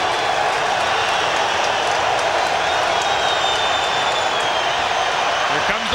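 Stadium crowd at a 1994 CFL football game between the Sacramento Gold Miners and Winnipeg Blue Bombers, standing and roaring before a 3rd and 10 play, a dense, steady wall of cheering noise throughout.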